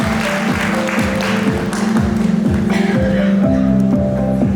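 Audience applause at a regional WorldSkills championship award ceremony in Almaty, steady clapping from a crowd under a repeating musical fanfare, moderately loud and continuous.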